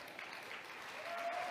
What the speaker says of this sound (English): it's a bit of rolling applause